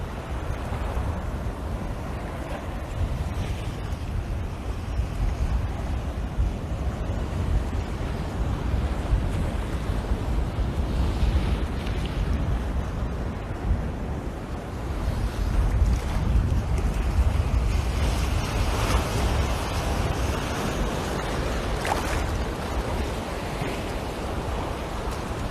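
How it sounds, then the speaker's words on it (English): Ocean swells off the Barbados coast between Sugar Bay and the Hilton on a morning sea: a continuous rushing wash of water and heavy wind buffeting the microphone, with no talking. "some of the swells that come through are quite large this morning"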